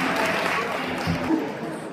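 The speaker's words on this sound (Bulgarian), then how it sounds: "Ваши аплодисменты." A crowd at a club dance evening with a retro brass-and-pop orchestra claps in a short, soft burst of applause, with voices murmuring underneath.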